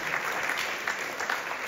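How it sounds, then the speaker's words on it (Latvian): Concert audience applauding after a live stage performance, a dense steady wash of clapping that stays even and fairly close throughout, with no voices over it. "Vēlreiz skaļi aplausi burvīgajiem māksliniekiem"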